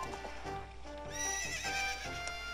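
A horse neighs in The Legend of Zelda: Ocarina of Time 3D, a loud whinny rising and falling over steady clip-clopping hooves, with game music and no talk.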